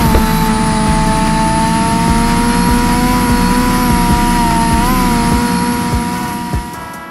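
Ferrari F40 LM engine in the Car Dealership Tycoon game: a loud, sustained high-revving engine drone with steady tones that dip slightly and recover, fading a little at the end, with no talk.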